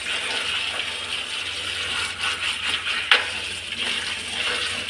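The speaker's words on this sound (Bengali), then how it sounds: "এই যে পাতাগুলো ধুয়ে নিয়ে নিয়েছি।" Ghetkol leaves being rinsed in water, with a steady splashing wash and a sharp clatter near the middle, loud and continuous, no talking.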